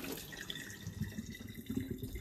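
Water drained from a home water machine into a pitcher and dumped into a sink, a soft uneven splashing and gurgling stream, close and fairly quiet, with no talk.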